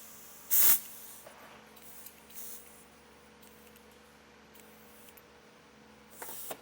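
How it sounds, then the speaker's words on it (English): Compressed air hisses in one short, loud burst through a Schrader valve into Air Lift 1000 air helper springs mounted inside coil springs, filling to about 20 psi; faint quiet hissing and light handling noises follow. "we're going to put about 20 psi into our airbags"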